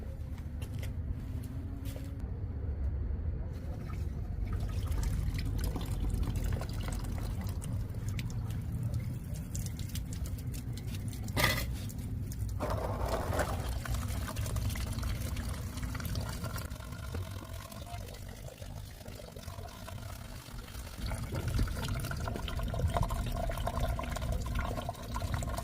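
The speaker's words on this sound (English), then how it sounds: "I'm going to pour the remaining water directly into the radiator and just let it pour straight out" Water pours steadily into the radiator of a Honda CBR RR/1000RR during a coolant flush and runs straight out, a continuous close splashing trickle with no talking.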